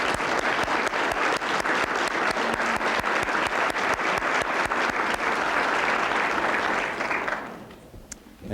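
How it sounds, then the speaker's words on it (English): An audience at an elementary school speech contest gives a loud, sustained round of dense clapping for the principals, lasting several seconds before tapering off abruptly. "stand and be recognized with a round of applause"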